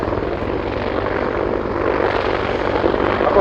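A British Army AgustaWestland Apache attack helicopter flies at the RIAT 2019 air show, its steady, loud rotor and engine roar continuous and slightly building, with no talk.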